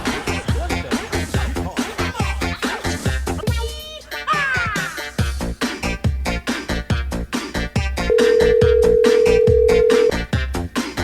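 Phone ringtone for an incoming video call, a loud melodic electronic tune repeating in steady pulses throughout, with a brief sustained tone near the end and no speech.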